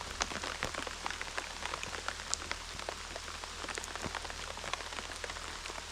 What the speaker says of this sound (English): Starting to rain a little bit.